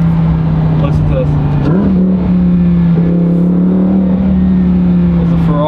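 Loud, close exhaust drone of a Lamborghini Huracan EVO with an Akrapovic full titanium exhaust, holding a steady low growl with a brief rev blip partway through.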